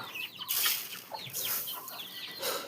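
Chickens on a farm, a grey hen among them with chicks nearby, cluck close by in short repeated calls. The clucks come alone without talk, and a brief burst of wing flapping or rustling joins in partway through.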